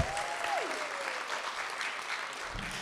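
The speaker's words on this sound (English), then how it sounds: "How about another round of applause for our great tellers?" Audience applause fills a performing arts center after a storytelling performance, a dense, steady wash of clapping that holds at even loudness from start to finish.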